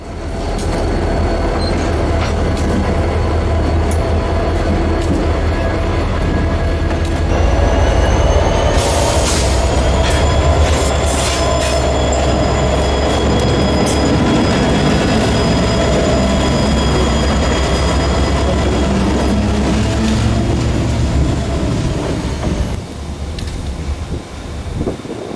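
Reading and Northern fast freight rolls past, led by SD40-2 number 3064 and three SD50-2 locomotives, a loud, steady rumble of engines and wagons with wheel squeals and a rising screech midway, no voices.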